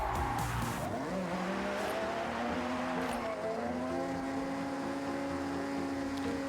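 A racing car engine in the video game Forza Horizon 6 screams at high revs around 9,000 rpm while tires squeal, steady and loud throughout with no pauses.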